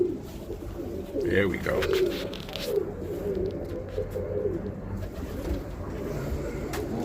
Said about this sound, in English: here is these are Dalmatian birds